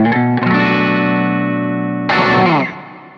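Strat electric guitar fitted with a P90 mod played through an amp with the tone set around five: a loud sustained distorted chord rings out, then a second bright chord is struck and cut short.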